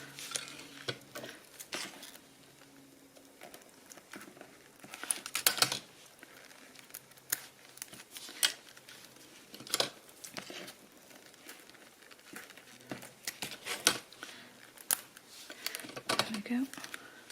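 Strong scissors snip through a metal piano hinge in short, sharp, irregular cuts, fairly quiet and close, with scraping and crinkling handling noises in between.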